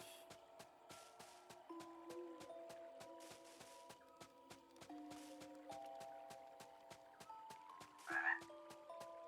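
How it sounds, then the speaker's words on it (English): A loud frog croaks over and over in the video game Chained Echoes, sharp rhythmic clicks alongside tonal game music notes, with a brief brighter chirp near the end. "It's a loud frog."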